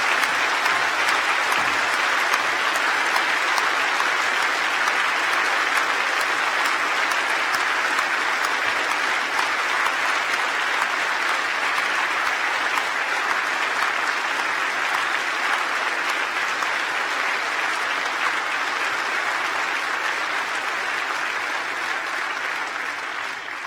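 A large audience applauds graduates at a university winter graduation ceremony, a long, loud, unbroken roar of many hands clapping that holds steady and eases only slightly toward the end.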